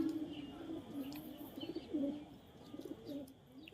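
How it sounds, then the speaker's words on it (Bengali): Domestic pigeons coo softly and steadily in a low, repeated murmur through the whole stretch, fairly faint, with some background noise and no clear talking. "আর এই যে কিং কোবরা, একদম কঠিন আমার জেনারেশনের পায়রা, এই যে এটা।"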